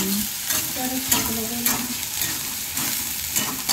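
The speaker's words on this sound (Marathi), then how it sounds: "कांदा फ्राय होतोय" Onion frying in a pan with cumin and curry leaves, a steady loud sizzle punctuated by repeated spoon scrapes and stirring knocks, with faint background voices.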